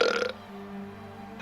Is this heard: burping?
yes